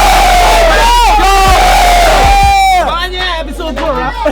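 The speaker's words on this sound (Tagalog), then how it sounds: "Pag sinabi kong The Zaito, sabihin nyo, show!" Crowd at a Filipino street rap battle shouting and cheering loudly in unison, a dense roar of voices that breaks into scattered whoops and calls toward the end.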